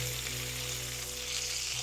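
Salisbury steak patties sizzle and crackle steadily in a frying pan, a soft, constant hiss of fat with no voices.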